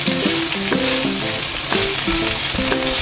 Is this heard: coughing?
no